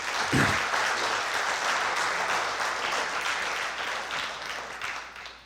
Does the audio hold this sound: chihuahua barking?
no